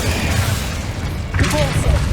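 An Incendio fire spell cast in Hogwarts Legacy bursts out as a short, loud booming whoosh with a fiery crackle rising midway, close and brief.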